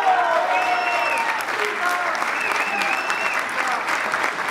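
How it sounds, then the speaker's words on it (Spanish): Dense, steady applause from a theatre audience at a choir and orchestra concert in Osorno, loud and continuous throughout, with some voices faintly mixed in. "Un aplauso para ella, por favor."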